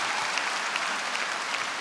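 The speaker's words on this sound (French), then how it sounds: "vous pouvez vous applaudir" Dense, steady applause from a crowd, many hands clapping continuously and loudly throughout.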